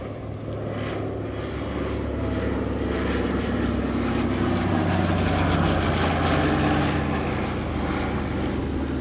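A Douglas C-47 propeller airplane, more than 80 years old, flies past at the Melun Air Legend 2023 air show, its piston engines giving a loud, steady, broadband drone that swells gently and holds throughout.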